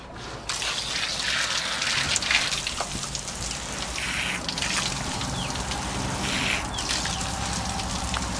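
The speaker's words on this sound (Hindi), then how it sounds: "थोड़ा मुँह हाथ धो लेता हूँ" Water runs steadily from a tap while someone washes face and hands after a hot, sweaty day of parcel delivery work. It makes a close, continuous splashing and trickling, with small irregular splashes as the hands move through the stream.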